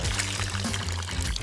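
Water poured into a child's shoes during a messy babysitting routine, a steady continuous splash at close range lasting the whole moment with no talk over it.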